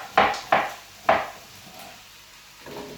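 A knife chops carrots and onion into large chunks for a chicken broth: three crisp, close cuts in quick succession, then a pause and a softer fourth knock against the board.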